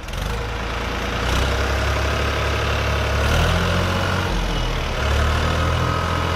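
A New Holland 3630 tractor engine runs loud and close, its low heavy rumble rising and falling as it is revved repeatedly.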